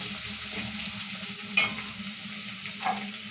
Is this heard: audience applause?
no